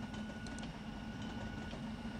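A train rolls past in the video game Bus Simulator Ultimate with a low, steady rumble and a faint tonal hum, quiet and continuous over the short stretch.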